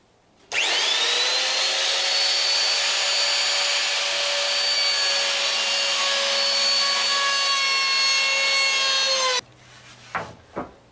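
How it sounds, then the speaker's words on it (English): Wood router cutting a groove along a timber spar for a boat's boom or gaff, a loud steady high whine with rich harmonics sustained for about nine seconds, then cutting off abruptly into quiet workshop clatter. "either lift the router or move it away from where we're hoping to cut"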